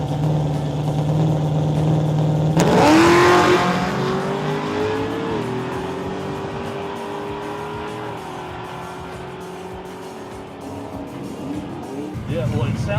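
A drag-and-drive truck built for street comfort and track passes revs its engine hard, a loud rising roar that settles into a steady high drone, with people talking faintly around it.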